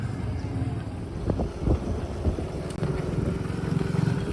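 Motorcycles carrying several riders each travel a road between Cali and Piendamó, their engines a low, steady rumble with passing surges, wind buffeting the microphone.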